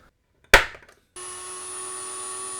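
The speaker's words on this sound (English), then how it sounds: "So the only thing we need to do now is to drill a couple of holes here." A sharp single impact, then a steady whining power drill boring holes in the case of an IBM PS/2 Model 80 computer, running evenly for about a second and a half, close and fairly quiet.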